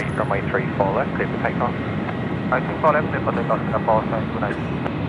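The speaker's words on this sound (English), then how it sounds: "Right, 747 rolling. Here we go." A Boeing 747 jet rolls for takeoff at Sydney Airport at night, a steady low engine roar heard from a distance beneath nearby chatter from people talking.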